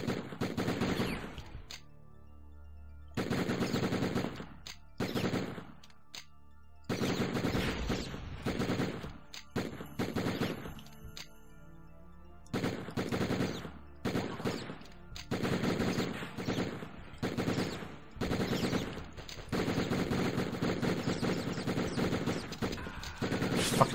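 Machine gun fire erupts in the Die Hard Trilogy video game, loud repeated bursts of rapid shots lasting a few seconds each, separated by short pauses, with no talking.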